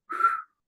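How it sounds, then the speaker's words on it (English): A person whistles a single short, clear note of under half a second, close and alone against silence. "I don't whistle good"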